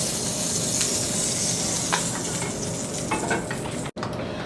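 Assorted vegetables are tossed in hot oil and butter in a pan, making a loud, continuous close sizzle with stirring clatter and a brief dropout near the end; no one speaks.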